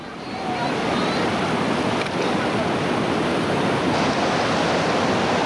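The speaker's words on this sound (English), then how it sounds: "Getting a gnarly ride through these waves" Continuous roar of white water rapids on the Lower New River in West Virginia, loud, dense and steady as a raft rides through the waves.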